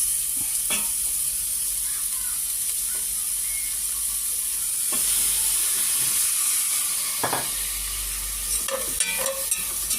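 Steady sizzling of pork frying in a pan, with occasional scraping and stirring clatter, close and continuous for the whole stretch.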